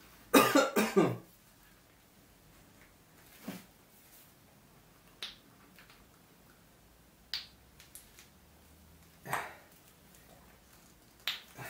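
A person in a dusty workshop room coughs in a sharp burst, then gives several isolated dry coughs and throat clears spaced several seconds apart against a quiet background.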